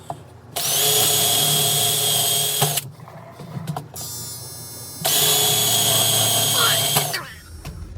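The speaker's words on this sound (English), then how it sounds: "All right, drill some holes real quick." During repair work on a Whirlpool washer, a power drill bores holes in two sustained, loud, close whining bursts. A short clatter of handling separates the bursts.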